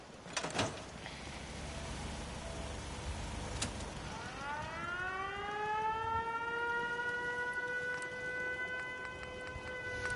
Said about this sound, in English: I don't know why, but I love the siren.